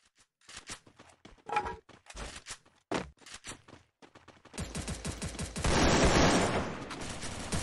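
Gunfire in a ranked shooter match: scattered single shots at first, then a dense, loud stretch of rapid automatic fire with overlapping bursts, no talk heard.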